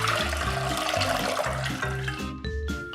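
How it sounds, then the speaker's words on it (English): Water pours steadily for a brine in a home kitchen, a loud continuous gushing that splashes and rings as the container fills, then tapers near the end, with no talking. "We're gonna start out with"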